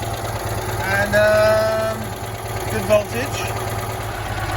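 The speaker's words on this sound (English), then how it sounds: "we have a car that's idling. I can actually hear the engine sound for once" A Citroen 2CV engine idles steadily at close range, a low continuous rumble running under a voice as he talks.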